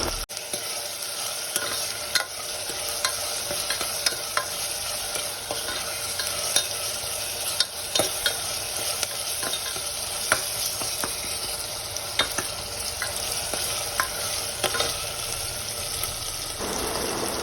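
Spices, garlic paste and half a tomato stirred together in a frying pan for a chana masala, a steady sizzle with repeated scraping strokes of the spoon, close and continuous, no voices.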